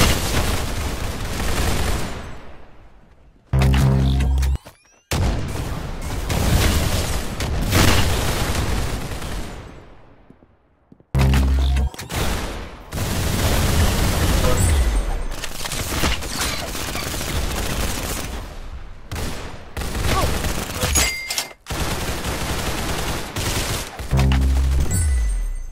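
Gunfire from the Roblox game Arsenal comes in loud, dense bursts and rapid volleys, broken by short silent gaps, with no talking.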